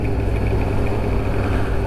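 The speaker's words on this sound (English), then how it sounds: "Just let this engine warm up a little bit." Kawasaki ZX6-R motorcycle engine idling on a cold day to warm up, a close, steady low hum with an even pulse and no talking.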